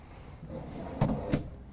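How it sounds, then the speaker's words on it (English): Two short wooden knocks of a deep drawer in a 2021 Renegade Verona 36VSB motorhome sliding and bumping shut, close by and fairly quiet, over a low room hum. "So you have 2 of each size drawer I just pulled out."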